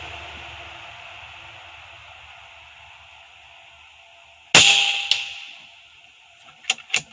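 A .25 caliber Air Venturi Avenger air rifle fires a single sharp, loud crack partway through, preceded by a steady hiss of background noise and followed by a few faint clicks and ticks, with no voices.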